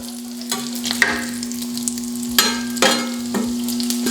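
Bacon fries on a griddle with a steady sizzle. Sharp metallic scrapes and clanks from a spatula cut through it several times, close and fairly loud.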